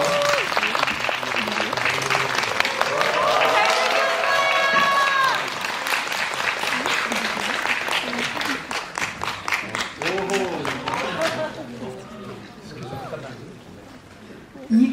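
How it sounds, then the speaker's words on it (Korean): Audience applause and cheering at a Korean film screening talk as a surprise guest actor arrives, a dense sustained burst of clapping with excited shrieks, then thinning out under people talking. "박수 부탁드립니다."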